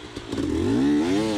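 A hard enduro motorcycle climbing in mountain terrain revs up sharply, its engine rising to a loud, buzzing whine after a few clattering knocks, close and alone.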